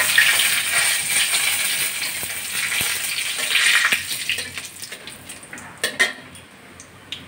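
Two bay leaves, black cumin and two dried chillies spluttering in hot oil, a loud, close crackling sizzle that slowly settles, then a few clinks of a utensil against the pan.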